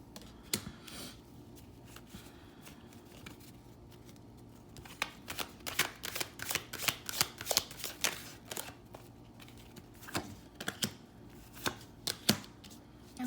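Tarot cards being shuffled for a reading, a quiet riffling and shuffling that builds into a dense run of close, crisp card slaps and flutters, with no talking.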